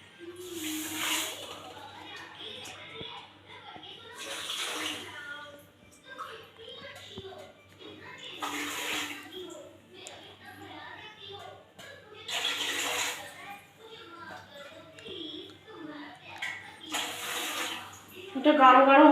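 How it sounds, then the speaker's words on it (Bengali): Water poured from a cup onto sugar in a pan to make syrup, five separate splashing pours spaced a few seconds apart, with someone talking quietly between them. "1 কাপ চিনির সাথে আমি 5 কাপ জল দেবো।"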